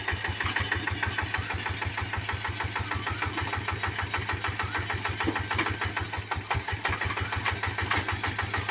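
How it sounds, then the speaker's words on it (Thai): A Kubota KRT140 4x4 small tractor engine runs steadily while tilling weeds in a lime orchard, a rapid, even chugging pulse that stays loud and close with no pauses. "ก็จะ ใช้รถไถเล็กมาปั่นครับ"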